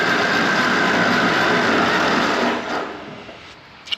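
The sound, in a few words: old engine turned by starter motor without compression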